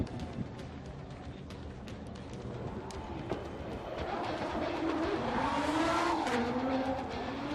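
A drift car with a tuned 2JZ engine runs at a Formula Drift qualifying round on the Long Beach street course. It makes a sustained, somewhat distant engine roar with rising, wavering tire-squeal tones that grow louder toward the end.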